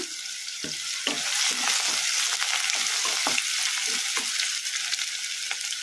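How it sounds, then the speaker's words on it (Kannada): Chopped onion and green chillies sizzle and crackle in hot oil with popping mustard seeds and cumin for palak sambar, steady close frying with repeated scraping stirs of a spoon. "ಈಗ ಸಾಸಿವೆ ಜೀರಿಗೆ ಚಟಪಟ ಅಂದಿದಾವಲ್ಲ ಈಗ ಇದಕ್ಕೆ ನಾವು ಕಟ್ ಮಾಡಿ ಇಟ್ಕೊಂಡಿದ್ವಲ್ಲ ಉಳ್ಳಾಗಡ್ಡಿ ಹಸಿಮೆಣ್ಸಿನ್ಕಾಯಿ ಇದನ್ನು ಹಾಕೋಣ ಕಲಿಸ್ಕೊಂಬಿಡೋಣ"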